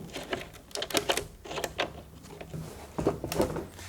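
Bolts being undone on a multi-section carbon prepreg mould: a close run of sharp metallic clicks and clunks in irregular bursts, with a few short pauses between them.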